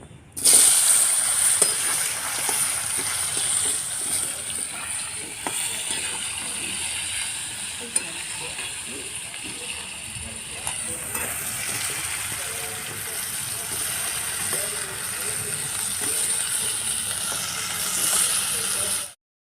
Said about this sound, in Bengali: কুমড়োটা এবার দিয়ে দিচ্ছি